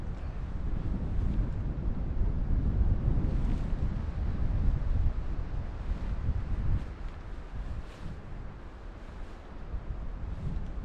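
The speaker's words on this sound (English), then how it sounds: "I'm into the wind today, sadly, and it's pretty strong." Strong headwind buffets the microphone while cycling a gravel track in Scottish winter on a Surly Ice Cream Truck fat bike, a steady loud rushing roar with gusty low-end thumps and no speech.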